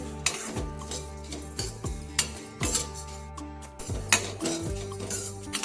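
Vermicelli roasting in a pan over a low gas flame, stirred with a utensil that clinks and scrapes against the metal in irregular strokes, close and alone.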